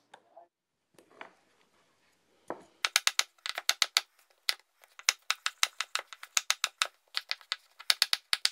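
Knife dicing rinsed bell pepper or tomatillo on a cutting board in a home kitchen: after a few scattered taps, a steady run of quick, crisp chops repeats close up with no talk.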